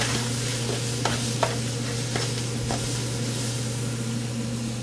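Chipotle peppers sauté in a chili pot with a steady frying sizzle, broken by a few soft scrapes as they are stirred around, close up and moderately quiet, with a low hum underneath.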